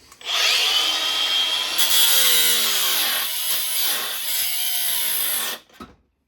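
A power tool grinds loudly through the metal pinch weld of a 4th-generation Toyota 4Runner for several seconds, a harsh high-pitched screech that wavers as the cut progresses, then stops abruptly.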